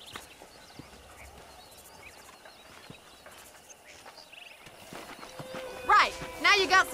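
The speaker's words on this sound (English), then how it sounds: "let's see if we can't wrangle some horses" Horses in the Western video game Red Dead Redemption, faint hoof clip-clops over quiet ambience with birdsong, followed near the end by louder, closer sharp sounds and a whinny-like cry.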